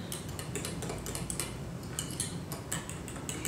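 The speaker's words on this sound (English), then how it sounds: "I'm just going to whisk this, just to get it all combined" Rapid metal tapping and clinking of a whisk in a bowl of chili marinade with salt, an even quick rhythm, close and moderately quiet.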